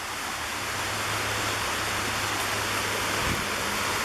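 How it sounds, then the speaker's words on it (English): Small rapids on a creek near the Tallulah River in Lakemont, Georgia, rushing in a steady, loud, broadband wash that stays even throughout with no voices. "Little rapids right there."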